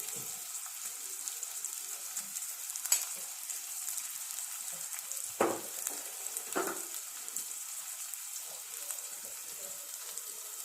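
Onion frying in a pan with chili powder and salt gives a faint, steady hiss, with a few soft clicks of a spoon stirring it, quiet and close by with no voices.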